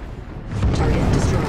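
A spaceship blowing up during a squadron dogfight in the Star Citizen space combat game: a deep, rumbling boom that swells and rolls on loudly for over a second.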